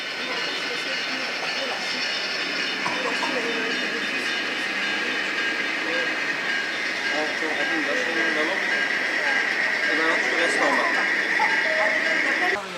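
Model railway trains run on a layout at a model railway show in Mulhouse, a steady mechanical hum and rolling rattle heard amid a crowded hall with continuous voices chattering throughout.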